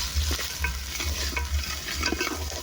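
Ginger paste sizzling in a pan for palav, a dense close hiss under brisk, repeated stirring scrapes and clatters, with no voices.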